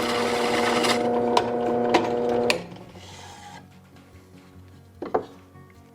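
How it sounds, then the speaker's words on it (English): Hole saw cutting through wood on a woodworking project, a loud whirring drill grind that stops abruptly partway, leaving quiet handling clicks and knocks afterward. "I've got a hole saw set up, so I'm just going to use the hole saw."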